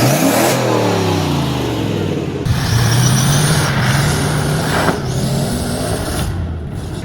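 A 1995 Ford F-150 with a 302 V8 on TTB suspension and roughly 33-inch mud tires revs hard at an off-road wheeling event, its engine note climbing and holding loud and close throughout.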